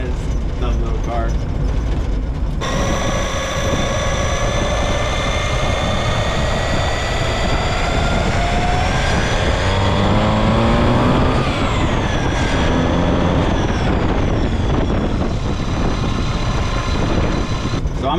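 A small car's engine pulls steadily in third gear, a continuous rising and falling drone with a voice talking over it throughout.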